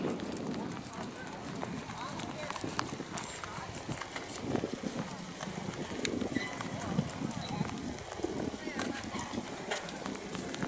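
Horse hooves clip-clop through an extreme obstacle challenge course, a busy, fairly steady patter of steps mixed into crowd and arena noise while a voice talks over them.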